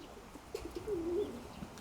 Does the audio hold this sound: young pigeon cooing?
yes